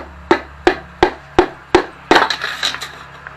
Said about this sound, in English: I use the butt end of my dead blow hammer to